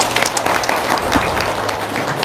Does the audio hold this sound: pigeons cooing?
no